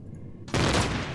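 Cannon turrets in the space survival game Empyrion: Galactic Survival open fire after a quiet half second, a loud dense burst of rapid shots that carries on steadily to the end.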